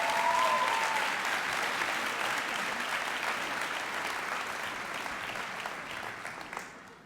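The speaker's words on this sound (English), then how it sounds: "So will you give him a round of applause" Audience applause fills a hall at a Teacher of the Year awards evening, a steady dense clapping from a large crowd that runs the whole stretch without talk and fades slightly toward the end.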